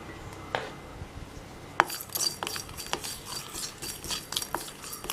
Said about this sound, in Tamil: எண்ணெய் ஊற்றாமே சும்மாவே வறுத்து எடுத்துக்கலாம்